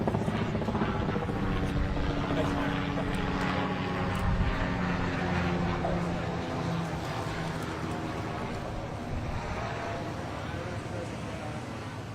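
A helicopter flies overhead in Sulphur, Oklahoma, after severe storms and tornadoes, its loud steady rotor drone filling the whole stretch close by, with voices faintly underneath.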